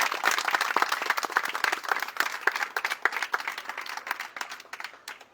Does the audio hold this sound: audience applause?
yes